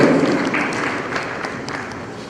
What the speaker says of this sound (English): A round of applause as she comes forward.